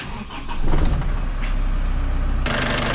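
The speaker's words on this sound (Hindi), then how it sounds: "अब क्या करूँगा, अभी ये कैप खुला रहने दूंगा और गाड़ी को पहले स्टार्ट करूँगा।" Tata Sumo engine cranking and catching in neutral with the radiator cap off during a cooling system flush, a loud low rumble that builds and settles into a steady idle, with a sharp hiss joining near the end.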